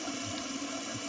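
A Luxe Neo 185 Plus bidet in rose gold sprays water from its cleaning nozzles, giving a steady close hiss and rush of running water with a faint pump-like gurgle underneath.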